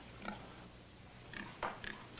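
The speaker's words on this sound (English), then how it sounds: "Not any pig, that's a prize-winning sow." A prize-winning sow grunts a few times nearby, short low oinks scattered over a quiet background with a faint hum.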